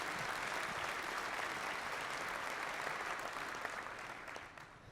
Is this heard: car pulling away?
no